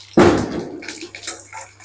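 Mustard seeds, urad dal, chana dal and dry red chilies hit hot oil with a sudden loud sizzle that fades into a softer crackle and spatter.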